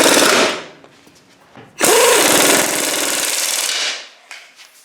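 A power tool tightens the ball joint stud nut on a Saturn Ion front control arm in two loud, close bursts, a short whirr and then a longer steady rattling run, with a brief quiet gap between.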